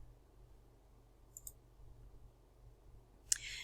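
Computer mouse clicks on a button: a faint double tick first, then a sharper, louder click near the end, over a low steady hum in a quiet room.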